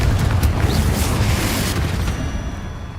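A Confringo explosive spell goes off in Hogwarts Legacy as one loud, sustained booming blast with a rumbling low end, then a tail that fades out near the end. Nothing else is heard over it.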